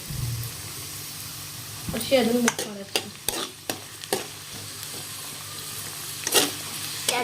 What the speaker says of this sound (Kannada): ಉಳ್ಳಾಗಡ್ಡಿ ಮಿಕ್ಸ್ ಮಾಡಿ ಒಂದು ಸ್ವಲ್ಪ ಕೆಂಪು ಆಗ್ಬೇಕು ನೋಡ್ರಿ